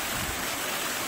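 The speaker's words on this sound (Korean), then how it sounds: "물소리가 되게 막 청아해요" Continuous rushing water of a clear forest stream fills the moment, a broad steady splash like water pouring over rocks, close and loud.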